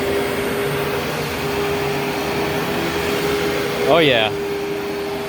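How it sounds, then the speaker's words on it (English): A Dirt Devil MVP vacuum cleaner runs with a steady, loud whirring drone throughout, a brief voice breaking in near the end. "So let's check out this Dirt Devil MVP. Maximum vacuum power."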